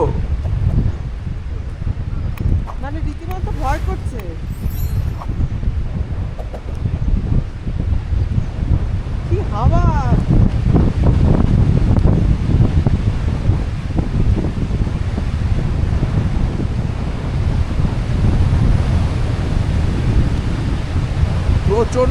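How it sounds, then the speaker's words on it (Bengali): Strong mountain wind blowing along the road from Bomdila to Dirang roars as continuous broadband rush with buffeting on the microphone, loudest in the second half, while voices talk intermittently over it. "প্রচণ্ড হাওয়া প্রচণ্ড"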